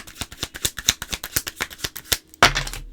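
Tarot cards being shuffled close up, a rapid run of crisp riffling flicks followed by a single sharp slap as the deck is squared, with no talking.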